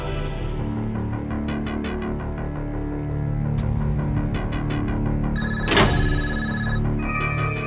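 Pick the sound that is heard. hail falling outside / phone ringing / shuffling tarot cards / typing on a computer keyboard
phone ringing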